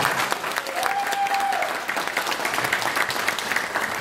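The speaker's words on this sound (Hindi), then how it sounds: "मैं चाहूंगा कि गुरुदेव के लिए एक बार दिल खोल के ताली होनी चाहिए" A crowd at a motivational seminar claps warmly for Gurudev, a dense, even wash of many hands lasting a few seconds with no talk over it.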